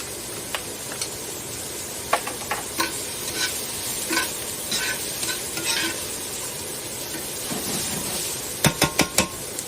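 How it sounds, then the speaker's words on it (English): Carrots stir-fry in a hot pan, with a continuous sizzle and scraping stirs, plus several sharp clinks of a utensil against the metal toward the end. "So we're just going to stir this up."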